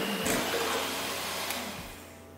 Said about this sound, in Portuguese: Tô até fazendo com a minha batedeira portátil para vocês verem que a batedeira simples dá certo. Vou bater aqui até virar um merengue